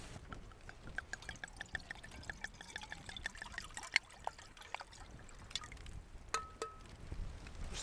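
Red wine trickles and splashes into a glass outdoors at a bushcraft storm camp, a faint, quiet pour with small clinks and dribbles against soft ambient noise.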